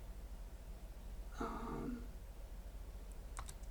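A few quiet keyboard keystrokes and light clicks in a talking-device game demonstration, with a short electronic tone sounding midway, all faint and close with no talking.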